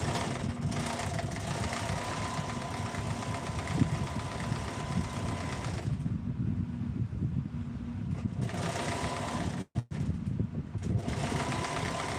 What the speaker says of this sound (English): Now we're going to sew it again, all the way down.